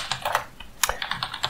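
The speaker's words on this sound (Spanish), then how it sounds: "Accedemos a la consola local y vamos a teclear SSH" Brisk typing on a computer keyboard as an SSH command is entered at a server console, a close, uneven patter of clicks with no talk.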